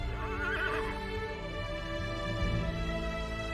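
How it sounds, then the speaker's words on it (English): Judd the horse lets out a loud whinny in a visual novel, a wavering, high neigh that trails off into lower snorting tones over a few seconds, with no talk over it. "Judd lets out a neigh"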